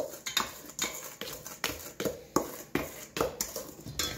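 Brownie batter with walnuts being stirred by hand in a bowl, giving repeated scraping, clinking strokes in a steady rhythm, close and moderately loud, with no talking.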